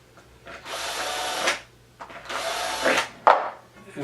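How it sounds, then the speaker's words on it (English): A small power drill with an eighth-inch bit bores holes in a metal dog dish: two bursts of whining drilling of about a second each, then a short sharp squeal, close and fairly loud. "I'm going to drill some holes here."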